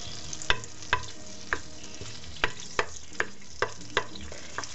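Sage leaves frying in oil in a pot to flavour it for pumpkin soup, a soft sizzle with sharp clacks of stirring at irregular intervals, close up.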